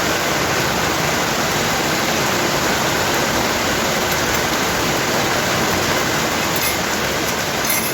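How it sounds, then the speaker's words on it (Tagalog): Heavy morning rain pours down in a loud, unbroken roar of broadband hiss, close and constant throughout, with no voices. "Umuulan. Ang lakas."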